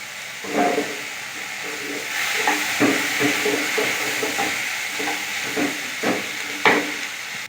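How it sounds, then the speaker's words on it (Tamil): A gram dal flour mixture with salt sautéing in a pan for Tirunelveli-style urundai kuzhambu, with a steady hiss and repeated soft scraping stirs of a spatula throughout, no voices. "இப்போ எல்லாத்தையும் நான் வதக்கி எடுக்க போகிறோம்"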